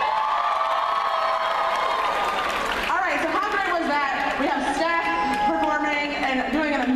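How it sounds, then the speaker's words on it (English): An audience cheers, whoops and applauds at a campus drag show, a loud sustained crowd roar with overlapping shouts and a voice speaking over it. "Give them another round of applause for that"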